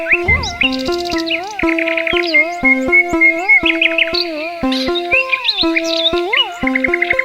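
Songbirds chirp and tweet in quick repeated phrases, with clear whistled notes rising and falling over a steady run of high calls, fairly close and continuous throughout.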